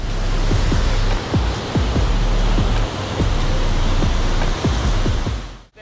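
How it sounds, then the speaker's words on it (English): A double waterfall in the high-jungle forest of Tingo Maria National Park, heard as a steady, loud rushing roar with a few soft knocks scattered through it and no voices. "It has a double waterfall"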